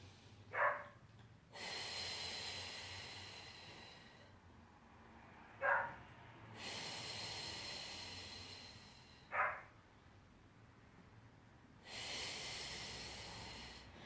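Slow, deep breaths drawn during a balance exercise on a foam oov: three broad, airy inhale-exhale swells spread over several seconds, each preceded by a short sharp nasal sniff, quiet and close with no talking.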